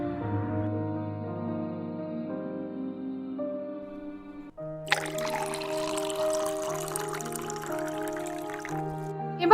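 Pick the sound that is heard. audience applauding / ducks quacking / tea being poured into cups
tea being poured into cups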